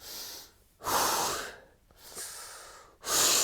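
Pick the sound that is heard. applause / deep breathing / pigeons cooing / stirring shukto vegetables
deep breathing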